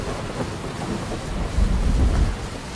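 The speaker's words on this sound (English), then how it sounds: "Got some rain. We've got some thunder." Steady rain with low rumbling thunder building toward the middle and end, a dense broadband wash throughout with no voices.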